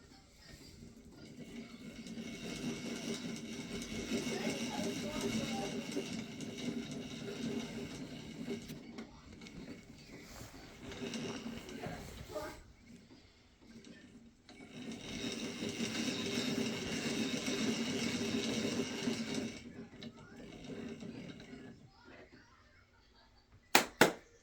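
A pulse motor generator coil being wound, a steady mechanical whirring with faint rattling patter that runs in two long stretches separated by a quieter pause, ending with a couple of sharp clicks.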